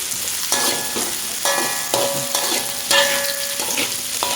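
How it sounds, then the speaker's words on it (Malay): Ginger and shallots sizzle steadily in a hot pan while a utensil scrapes and clinks against the metal in repeated stirring strokes. "So, kita goreng dia. Kita juga masukkan bawang"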